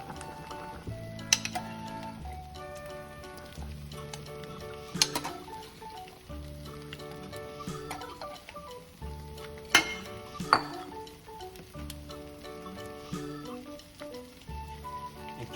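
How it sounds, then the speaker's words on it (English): Sliced rice cakes go into a pot of boiling broth, heard as scattered clinks and clatter of utensils against the pot over a low bubbling background, with a few sharper knocks. "leave this boiling pot approximately 3 or 4 minutes, and after that put the sliced rice in the pot"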